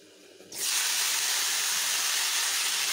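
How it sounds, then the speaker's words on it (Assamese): Cut potatoes drop into hot oil in a home kitchen and set off a sudden loud sizzle that holds steady and hissing without pause. "আলু কাটি থৈছিলো সেইখিনি ভাজি লম"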